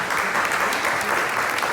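A crowd at a poetry recital of Portuguese verse claps steadily, a dense continuous wash of applause at moderate volume with no talk over it.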